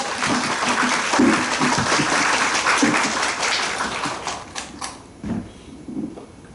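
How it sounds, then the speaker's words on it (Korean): An audience at a lecture on human and wildlife coexistence welcomes a speaker from the National Institute of Ecology with sustained clapping that gradually thins out into scattered claps and fades. "큰 박수로 맞아주시기 바랍니다."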